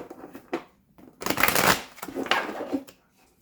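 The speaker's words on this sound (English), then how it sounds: "So let me shuffle this again" Tarot cards being shuffled close up in a few quick riffling bursts, with short pauses between them and no talking.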